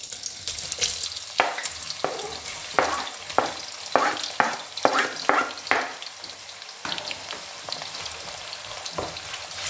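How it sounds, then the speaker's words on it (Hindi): Onions fry in hot ghee in a wok (kadai), a bright sizzle punctuated by a rapid run of rhythmic spatula scrapes and stirs, close and loud, settling into steady hissing. "जो घी कढ़ाई में डाला था वो भी गर्म हो चुका है। अब हम उसमें प्याज ऐड करेंगे।"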